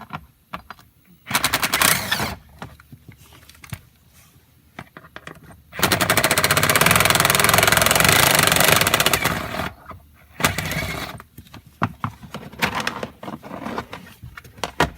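A power driver removing 7mm screws from the passenger-side kick panel of a Chevrolet Silverado, loud rattling impact bursts, one sustained for several seconds, with quieter handling noises between.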